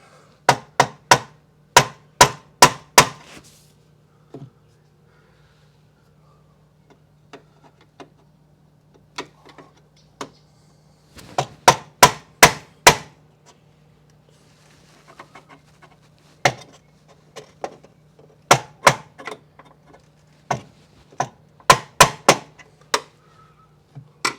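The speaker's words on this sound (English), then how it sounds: "Gonna go after a 1/2 inch knockout right here." Repeated sharp hammer strikes knock out a 1/2 inch electrical knockout during a Senville Leto mini-split installation, coming in fast bursts of several close, loud blows separated by pauses.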